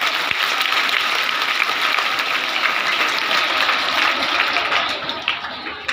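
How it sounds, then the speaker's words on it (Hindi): A group of children claps together in sustained, dense applause, loud and even for several seconds before thinning out near the end, with faint voices mixed in. "ताली बजाओ, जल्दी आएगी।"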